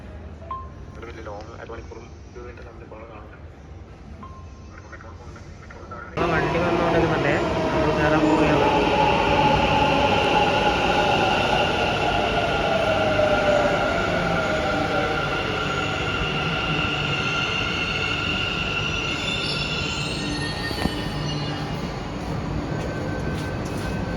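A Bangalore metro train at Majestic rumbles loudly and steadily after a quieter start, with rising and falling electric motor whine and wheel noise, and faint voices underneath.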